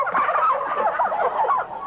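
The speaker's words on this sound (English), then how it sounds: "Me and Lightning took them turkeys 50 miles out of town" Several turkeys gobble loudly and close by, their rapid warbling calls overlapping continuously.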